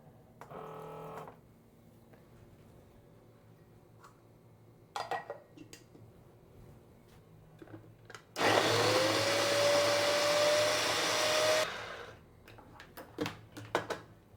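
Electric blender grinding spices with a little water, starting abruptly and whirring loudly and steadily for about three seconds with a rising whine, then stopping. Quieter kitchen clatter comes before and after.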